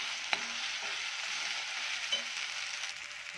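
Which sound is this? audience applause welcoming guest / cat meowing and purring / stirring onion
stirring onion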